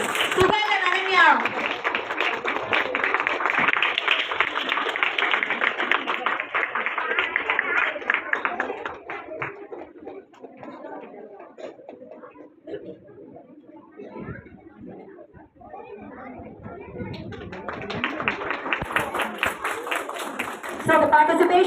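An audience at a school felicitation ceremony for phonics and spelling bee students applauds the prize winners. Steady, full clapping runs for about nine seconds and dies down under talk, then swells again near the end.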